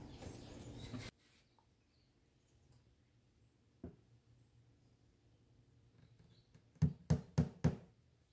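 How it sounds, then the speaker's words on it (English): Nails are hammered into a wooden dresser to hold a slid-in part in place: one isolated knock, then a quick burst of four sharp, close hammer strikes. "just put a few nails in there to hold it in place."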